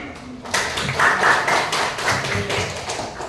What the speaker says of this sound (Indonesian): Terima kasih kesediaannya, tepuk tangan.